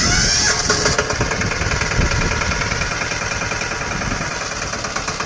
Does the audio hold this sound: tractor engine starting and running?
yes